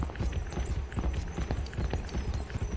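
Pig running in the Dreadout horror video game, a steady rapid patter of trotting footsteps with a hoof-like clip-clop rhythm throughout, fairly loud and without talk.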